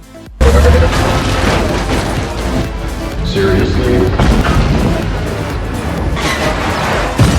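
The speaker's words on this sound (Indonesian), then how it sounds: "Bermodal bom asap, Amara berhasil kelabui Ajax" A smoke bomb goes off in a robot action film scene: a sudden loud boom followed by a sustained roaring blast and rumble, with busy film sound effects and a voice mixed in.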